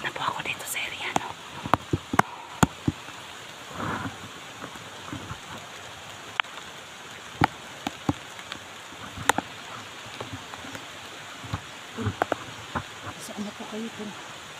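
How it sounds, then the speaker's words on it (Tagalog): Heavy rain falls steadily in an outdoor area, a constant hiss with scattered sharp drips and taps, while a voice talks quietly underneath. "Kasi malakas ng ulan."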